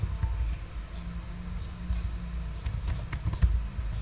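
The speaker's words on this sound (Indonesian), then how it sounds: "Kemudian ketik print" Typing a Python script on a computer keyboard, light irregular key clicks close by over a low background hum, fairly faint.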